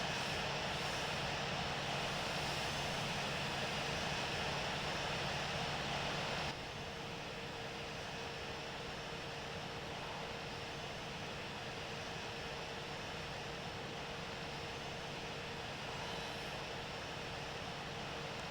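A steady, loud airliner engine drone in Infinite Flight Simulator after a rough landing at St. Louis, continuous broadband roar that drops slightly in level partway through.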